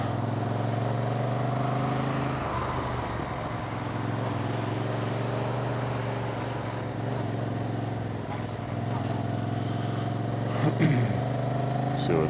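A Yamaha MT-07 motorcycle engine drones steadily through a lap around a slip lane, a low continuous hum with faint wind noise and occasional shifts in pitch, while a rider talks.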